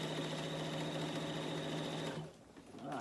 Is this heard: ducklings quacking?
no